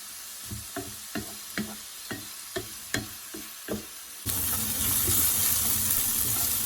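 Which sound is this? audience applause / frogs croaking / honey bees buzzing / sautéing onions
sautéing onions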